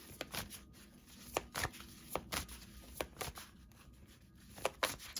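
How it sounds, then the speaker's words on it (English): Tarot cards being shuffled by hand, a rapid series of crisp riffling snaps and slaps in an irregular rhythm, close and fairly quiet with no talk. "I'm just shuffling the cards."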